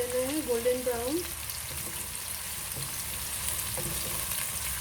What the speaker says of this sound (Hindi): बीच बीच में चलाते रहें प्याज को। इसको गोल्डन कर लेना है, गोल्डन ब्राउन।